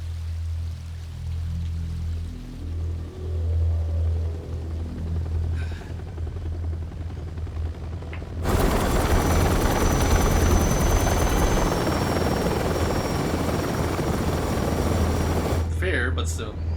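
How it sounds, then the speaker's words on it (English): Several helicopters in the Metal Gear Solid Delta video game approach, a steady low rotor thrum swelling into a loud, dense roar that fills the scene. "It takes that many helicopters."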